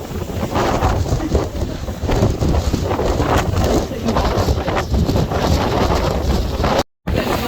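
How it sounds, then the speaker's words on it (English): Heavy wind buffets the microphone in continuous rough gusts, loud and roaring, cutting out abruptly near the end. "Oh, it's windy."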